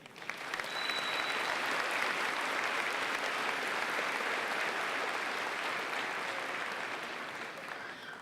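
An audience at a Ferris State University commencement ceremony breaks into sustained applause, a dense, even clapping that swells quickly, holds steady for several seconds and begins to taper at the end.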